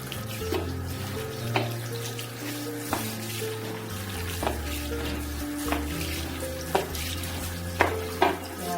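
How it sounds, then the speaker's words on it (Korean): A wig rinsed under running lukewarm tap water, a steady close stream with intermittent splashes and handling knocks as the hair is washed. "흐르는 미지근한 물에 망 깨끗이 씻어주시고 머리카락 씻어주시고"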